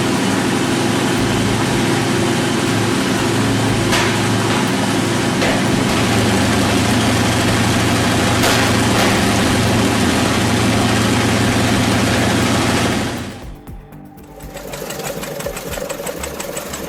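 A Wright Cyclone radial engine from a B-17 bomber idles with a loud, steady, heavy knocking rumble, then cuts out abruptly near the end, leaving quieter lingering noise.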